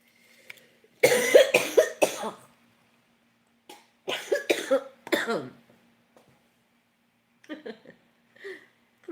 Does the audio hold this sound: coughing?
yes